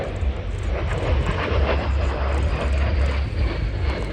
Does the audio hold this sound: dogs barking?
no